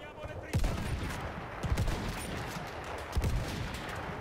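Rifle shots in Battlefield 1's singleplayer campaign: three sharp, fairly distant cracks spaced irregularly over a busy battlefield din of rumble and faint background noise.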